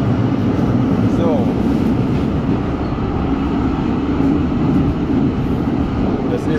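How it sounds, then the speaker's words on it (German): A tram in Hannover runs through an underground tunnel with a loud, constant rumble and roar of wheels on rails and enclosed noise, filling the whole stretch with no clear talk. "Danach sollte die Straßenbahn wieder ans Tageslicht fahren."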